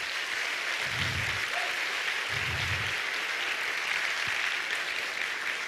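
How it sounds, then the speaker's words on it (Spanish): A school audience at a symphony orchestra concert applauds, a dense continuous clatter of many hands sustained evenly through the whole stretch, with a couple of low thumps beneath and no talking. "Un aplauso, por favor, para ellos."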